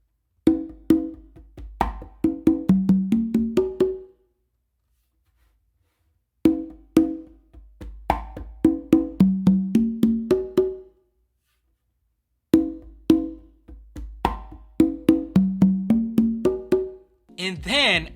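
A four-drum funk groove fill is played on congas, tumba and requinto. Crisp hand strikes fall in three repeated phrases, each a quick run of slaps and open tones followed by a pause.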